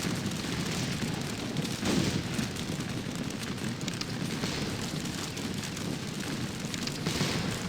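Volleys of infantry musket fire in a Napoleonic Waterloo battle game, a dense, continuous crackle and rumble of many shots blending into a steady roar without pause.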